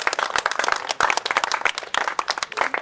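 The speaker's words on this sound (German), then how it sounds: "jetzt mal Applaus" A small group claps at a school pavilion project presentation, uneven sharp hand claps of moderate loudness with a few voices mixed in.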